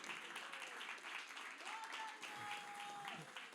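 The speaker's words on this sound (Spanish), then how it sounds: "denle un fuerte aplauso de alabanza al Señor" Congregation clapping in praise to the Lord during a Spanish-language church service, a steady wash of hands that holds for the whole stretch, with a voice sustaining a note above it.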